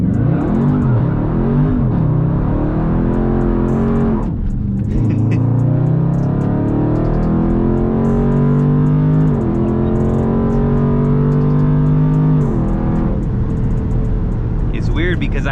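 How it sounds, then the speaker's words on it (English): A Dodge Charger 392 Scat Pack with traction control switched off revs hard at a stop, its loud engine note rising and falling in repeated sweeps, briefly dipping as it cuts out. "You guys just seen that, but you could hear the engine still cutting off a little bit."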